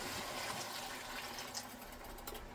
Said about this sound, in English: Then I'm going to add 2 cups of water.